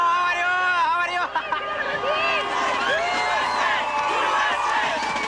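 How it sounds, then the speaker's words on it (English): Thousands of Kuwaitis cheer as troops enter Kuwait City, a dense crowd of whoops, shouts and high excited voices roaring continuously, loud and close, with overlapping babble throughout. "there were thousands of Kuwaitis cheering troops as they entered Kuwait City late today"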